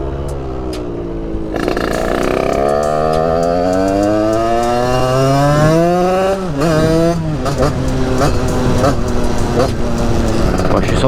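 A moped with an 86cc Top Fonte kit, run in briefly to clear it out, starts up and revs hard. The two-stroke engine whines up and down in pitch, loud and close, over several repeated revs.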